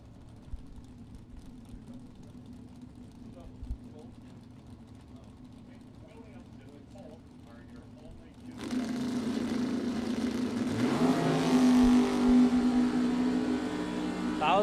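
Two drag racing cars, an old-school S10 and a Monza, launch side by side at a bracket nationals event; a loud broadband engine roar swells suddenly partway through and holds steady after a stretch of quieter background drone and commentary.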